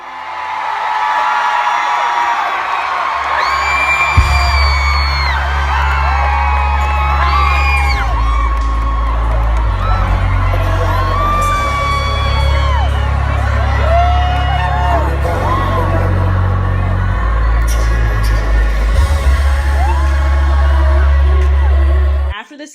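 Concert crowd cheering and whooping loudly as the singer crumples a fan's poster and throws it, a sustained roar of many voices with excited shrieks and shouts layered over booming low music.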